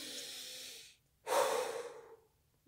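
Deep, slow breathing during a guided relaxation session: one long, airy exhale fades out, then after a brief pause a fuller, rushing breath swells up close to the microphone before trailing off, with no talking.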